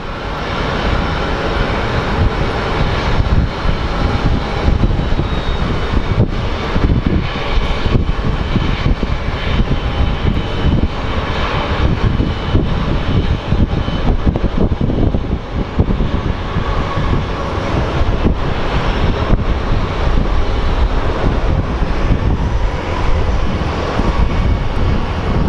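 A Spirit Airlines passenger jet at Phoenix Sky Harbor airport gives a loud, sustained engine roar that fills the whole stretch with a broad, steady rumble and little change in intensity.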